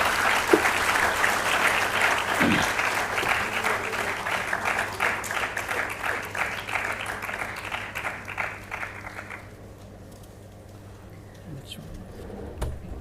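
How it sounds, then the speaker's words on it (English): At a WiDS India conference session in Bengaluru, the audience gives a sustained round of applause. The clapping holds full for about nine seconds, then fades to scattered claps over quiet room tone. "So, can we have a round of applause, please?"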